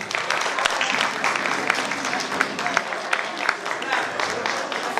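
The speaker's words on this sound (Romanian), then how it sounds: "dați-ne aplauze!" Audience applause at a folk festival of customs and traditions in Poduri, Bacău county, a dense, steady clapping from a crowd that continues throughout.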